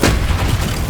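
A Bombarda explosion spell in Hogwarts Legacy, a single heavy boom with a rumbling low tail, close and loud.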